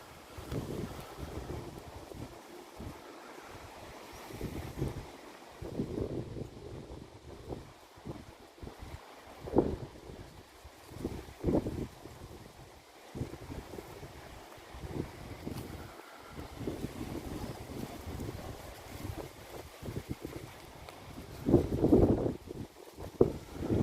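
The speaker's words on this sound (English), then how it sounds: "What's the wind noise like? It's a bit windy here." Gusts of wind buffet the microphone in irregular low thumps and rumbles, rising and falling, with a strong burst near the end.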